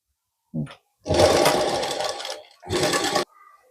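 A sewing machine stitches a blouse sleeve in short loud bursts: a quick blip, then a long whirring run of about a second and a half, a pause, and another half-second run, with no talking.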